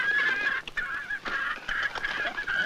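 Chickens clucking and squawking nearby in a short burst of repeated calls, fairly loud with no talk over them.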